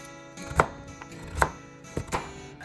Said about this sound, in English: Peel and then chop a carrot.